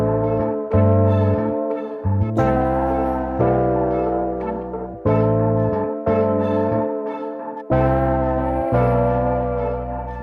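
A music sample from a sample pack plays alone: bell-like tonal chords struck in repeated phrases, each swelling then decaying, with deep sustained bass notes underneath.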